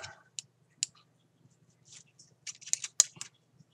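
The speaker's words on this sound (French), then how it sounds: "Ah, mais j'ai pris des ciseaux qui coupaient bien" Sharp scissors snip cotton wick for a double-coil build on a Minos 25 atomizer, giving a few quick isolated clicks and then a tight cluster of crisp cuts, close and quiet.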